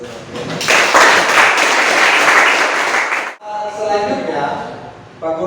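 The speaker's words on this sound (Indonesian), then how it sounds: "saya memberikan kesempatan buat kalian untuk memberikan aplaus untuk kita semua" Students applaud in a classroom, a dense burst of clapping that fills about three seconds and then cuts off abruptly, giving way to quieter room noise and a voice speaking.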